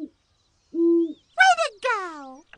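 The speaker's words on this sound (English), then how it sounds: "Great horned owl." A great horned owl's hoots from a children's nature video game: a soft low hoot, then two louder wavering, descending calls in quick succession, close and clean over silence.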